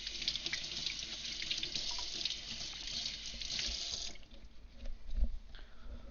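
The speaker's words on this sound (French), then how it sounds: "Du coup, je passe un petit coup d'eau d'abord dessus." Tap water running steadily into a kitchen sink while green onions are rinsed under it, a close, even hiss that drops off toward the end as the flow is cut, leaving faint drips and handling noises.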